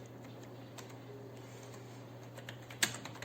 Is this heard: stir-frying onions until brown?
no